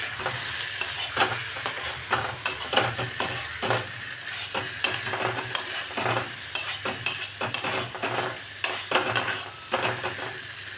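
Prawns fry in a pan under a constant hiss, while a spatula scrapes and stirs in quick, uneven strokes throughout, close and fairly loud, with no voices.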